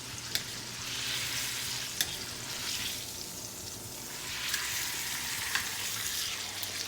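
Steak frying in butter in a pan with black pepper, a steady broadband sizzle running throughout, with a few sharp clicks and light pan knocks along the way.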